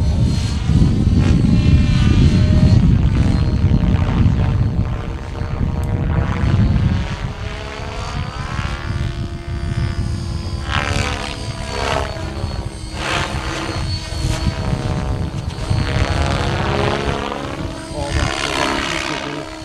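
Model helicopter flying at a club airshow in Schlangen: a loud, close rotor and engine whine that rises and falls in pitch as it maneuvers, with a heavy low roar at first.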